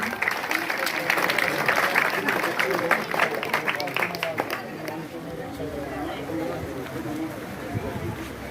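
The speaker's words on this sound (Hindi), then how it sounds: "जोरदार तालियां बजा देंगे आप सभी" Villagers clap loudly at an outdoor honoring ceremony, a dense steady round of applause that fades to softer scattered clapping and crowd chatter toward the end.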